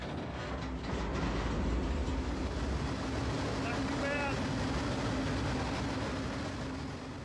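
Freight train rolling along the tracks heard from on board, a steady broad rumble with wind and faint metallic squeals, a voice briefly audible beneath the noise.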